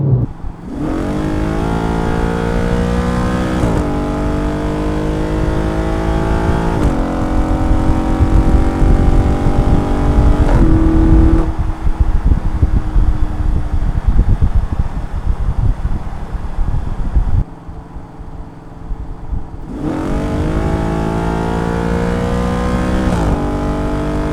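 A loud Audi RS5 engine with the muffler deleted revs hard through rising gear pulls, with a harsh, raspy exhaust, wind roar, a lull, then another strong acceleration.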